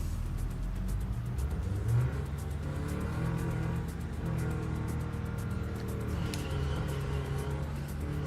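A car in a video game accelerates and drifts, its engine droning steadily and loudly with shifting pitch throughout, with no talking over it.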